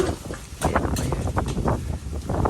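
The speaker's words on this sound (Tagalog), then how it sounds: "Lakas ng hangin." Gusting wind buffets the microphone in a constant rough rumble, with loud bursts of blustery noise rising and falling throughout.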